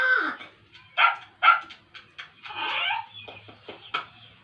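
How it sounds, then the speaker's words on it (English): A cartoon dog, Flanders' new pet in The Simpsons, gives several short barks and yips in a quick irregular run, close and fairly loud, with a brief whimpering tone early on. "Flanders got a new dog."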